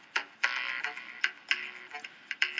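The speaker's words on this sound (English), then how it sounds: "So now we've got kind of an echo going on." A drum groove run through a simple delay effect in Ableton Live 9, its percussive hits repeating as echoes that trail off between the beats, with no voice over it.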